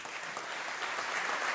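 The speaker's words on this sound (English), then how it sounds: "A big round of applause." Conference audience at a commercial and financing meeting breaks into a steady round of applause, a continuous wash of clapping that builds slightly toward the end, with no talk over it.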